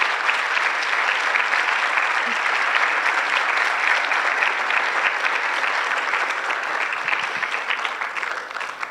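An audience applauds steadily and loudly after an inaugural conference lecture, the dense clapping sustained for several seconds before tapering slightly at the end, with no voices over it.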